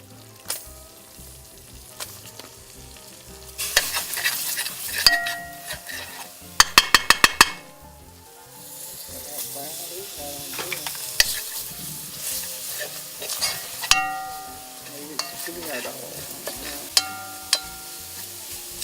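Onions frying in a cornstarch roux for Southern cornbread dressing, with a steady sizzle and repeated spoon scrapes and metallic clinks against the pot, including a burst of rapid clanks midway, up close.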